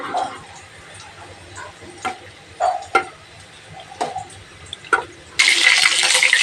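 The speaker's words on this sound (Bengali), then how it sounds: "কাঁচা লঙ্কাও ভাজা হয়ে গেছে।" Green chillies fry in a pan for a navratan korma while a spoon knocks and stirs several times. A loud, steady sizzle then surges up near the end.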